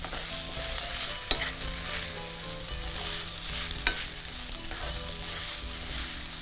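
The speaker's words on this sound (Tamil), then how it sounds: "இது நல்லா சூடாகிற வரைக்கும் கலந்து இறக்குனீங்கன்னா சைனீஸ் ஃப்ரைட் ரைஸ் தயார்" Chinese fried rice with vegetables is stir-fried in a hot pan. A steady, close sizzle runs throughout, with occasional scraping strokes of the spatula and no voices.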